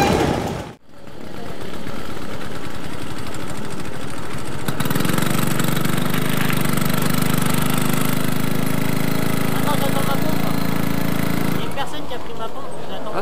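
Solex moped engine running at a rally, a loud buzzing drone that rises sharply partway through as the small motor revs, then cuts back; preceded by a handling thump and rumble.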